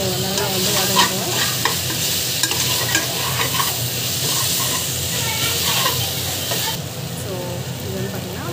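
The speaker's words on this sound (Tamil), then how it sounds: "ஸோ நல்லா வந்து வதக்கி வச்சுக்கோங்க, நல்லா வந்து வதங்கிட்டோம்." Loud sizzling of ingredients being sautéed in a pan for mushroom biryani, with constant stirring scrapes and clatter over a bright hiss, and a voice speaking throughout.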